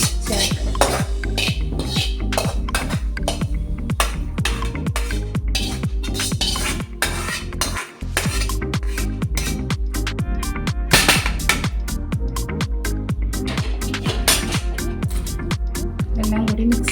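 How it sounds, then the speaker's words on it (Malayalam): A spoon stirs a tempering mix into curd rice in a metal pot, giving rapid, continuous scraping and clinking against the pot, loud and close with a brief pause midway. "എല്ലാം കൂടി മിക്സ് ചെയ്യാം."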